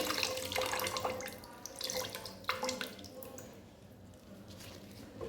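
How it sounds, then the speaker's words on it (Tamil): Soaked tamarind water poured into a pot of dalcha, a lentil and brinjal stew, giving a steady splashing, trickling pour for a few seconds, fading toward the end, with no talk. "இப்போ இது இந்த புளியை ஊற்றிக்கிறேன்."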